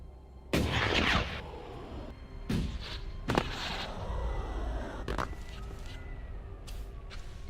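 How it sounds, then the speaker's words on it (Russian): Laser blaster shots in the video game Elex: a few sharp, loud discharges spaced a second or two apart, each trailing into a short ringing decay over low background hum. "я сейчас бегаю с лазерным бластером 84"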